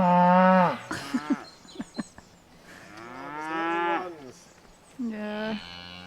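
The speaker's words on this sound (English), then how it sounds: "we seem to have some loud neighbours. Loads of cows!" Several cows moo loudly near a moored narrowboat, long drawn-out calls with short pauses between them.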